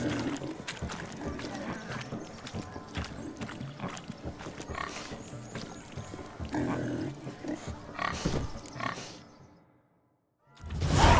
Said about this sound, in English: One pig penned.